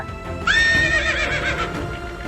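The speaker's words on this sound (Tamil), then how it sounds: "கோட்டைக்குள்ள ஒரு குதிரை நின்று புல்லு மேய்ச்சிட்டு இருக்குது." A horse inside Vellore Fort whinnies once, a loud, bright neigh that starts abruptly and trails off over low outdoor background noise.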